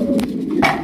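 A racer pigeon gives a brief, soft coo, close by, lasting under a second.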